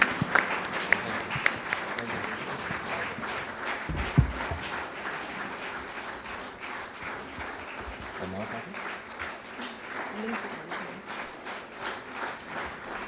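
An audience gives long, steady applause for national hero Arshad Nadeem at a public event. The dense clapping stays even and fairly distant throughout, with a few sharper claps near the start and faint voices underneath.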